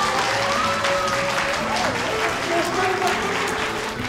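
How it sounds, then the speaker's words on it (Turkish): Crowd applause at a wedding ceremony scene in a Turkish TV series, continuous clapping with voices and background noise mixed in throughout. "Ya bunlar beni mi alkışlıyor"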